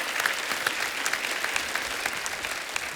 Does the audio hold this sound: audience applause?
yes